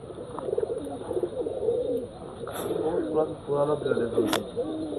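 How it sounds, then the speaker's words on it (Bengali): Old-bloodline pigeons of Rajshahi white and Fotka breeds coo softly in repeated low, rolling phrases nearby, with a few brief sharper sounds and a voice partly mixed in. "প্রচুর পুরাতন ব্লাডের কবুতর"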